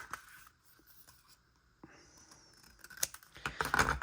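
Scissors cut paper tabs off a 3D castle die-cut piece along a score line, giving soft snipping and crisp paper rustle that builds to a louder burst of cutting near the end, close up with no talk.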